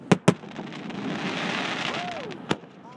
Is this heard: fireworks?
yes